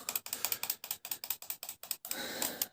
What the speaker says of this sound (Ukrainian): іграшкове, накручується, і воно повинно ходити